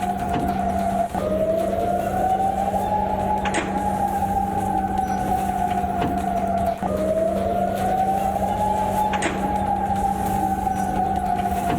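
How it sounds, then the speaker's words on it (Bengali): An air-raid siren in Doha during an attack wails, rising and falling in long, slow sweeps over a constant low hum, loud and continuous. "ভয়ঙ্কর শব্দ সাইরেনের শব্দ বিস্ফোরণের শব্দ"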